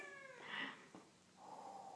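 A pet cat makes a strange, wavering meow with a drawn-out warbling tone, quiet and close in a calm room, followed by a softer low murmur.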